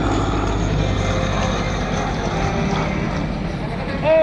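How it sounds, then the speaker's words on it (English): An aerobatic airplane flies low at an airshow in Binghamton, its engine a steady droning hum from some distance, with an announcer talking over it. "Here he comes low, rolls the airplane over, hanging by the belt strike now."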